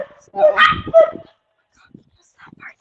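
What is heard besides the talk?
dogs barking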